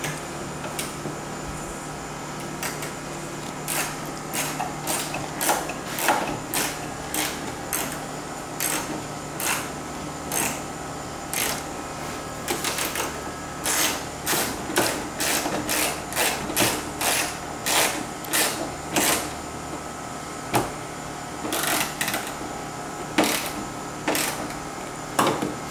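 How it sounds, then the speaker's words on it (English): A ratchet tightens bolts while a rear wing is fitted to a sixth-generation Camaro ZL1 1LE, sounding as bursts of rapid close clicking separated by pauses, without talk. "Just get the ratchet."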